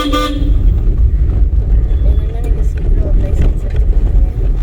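Car horn honking during a driving lesson, a loud close toot at the start followed by engine and road noise inside the moving car with muffled voices.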